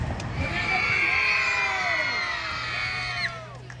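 A group of children scream and shout together at an event, a loud sustained chorus of high, overlapping voices that rises and then trails off near the end.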